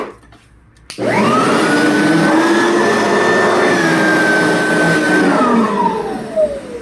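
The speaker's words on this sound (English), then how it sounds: "that is the RAR Superlite R10P. This thing is a beast at cleaning carpets" A RAR Superlite R10P vacuum cleaner starts abruptly after a second and runs loudly and steadily on carpet, its motor whine holding a high pitch before sliding down near the end.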